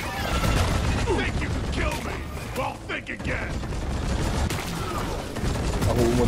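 Video game gunfire as a player shoots enemies, rapid clattering bursts of shots mixed with mechanical clicks, with someone talking over the action.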